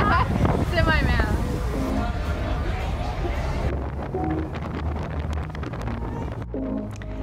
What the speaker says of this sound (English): The wind was batshit insane.